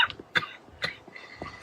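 A person coughs in three sharp, separate bursts spaced about half a second apart, fairly close and loud, with no talking between them.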